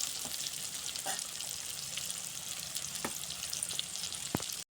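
Fish pieces frying in oil in a village kitchen, a steady close crackling sizzle throughout with a few sharp pops and clinks, no talk.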